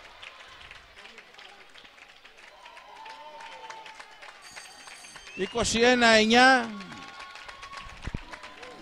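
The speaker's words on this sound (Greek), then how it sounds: "Πολλά τα χειροκροτήματα." Spectators at a 2004 local women's volleyball final burst into loud applause and cheering for just over a second midway through, rising above the constant patter of a commentator talking over a quiet hall.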